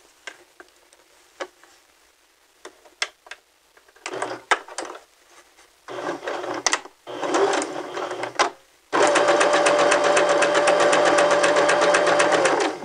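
A home sewing machine stitching a fabric seam during a sewing lesson, with scattered clicks and handling knocks, then short bursts of stitching that build into a loud, steady whirring run at the end.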